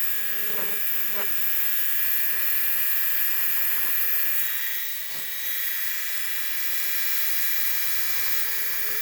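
A high-pitched rotary tool drills steadily to enlarge a hole in plastic resin, a continuous whine with slight dips as it takes small bites, close up and alone.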